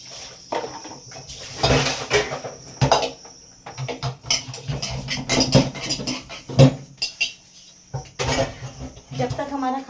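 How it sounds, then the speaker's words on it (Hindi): Pots, dishes and utensils being washed in a home kitchen give off close, irregular clinks and clatters, with a few louder knocks. Faint voices are heard underneath. "जब तक हमारा खाना बनेगा तो हमारा बर्तन भी साफ हो जाएगा।"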